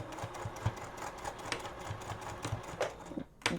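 Close and steady, a sewing machine runs a back stitch on a sweatshirt being turned into a zip-up, its quick rhythmic needle chatter continuing before slowing and stopping near the end, with no voices.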